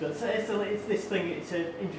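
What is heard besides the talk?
None of the usual background noises is heard.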